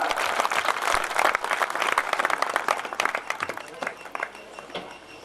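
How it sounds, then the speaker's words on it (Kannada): Audience applause at a Kannada Bayalata folk theatre performance of Renuka Devi Charitre in Banapura, a dense burst of clapping from a crowd that gradually thins and fades over a few seconds, with a voice faintly underneath. "ಎಲ್ಲರೂ ಕಲಾಭಿಮಾನಿಗಳು ಚಪ್ಪಾಳೆಯನ್ನ"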